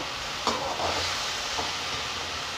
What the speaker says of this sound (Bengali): ভালো করে মিক্স করে নাড়িয়ে আবার ঢাকা দিয়ে দেব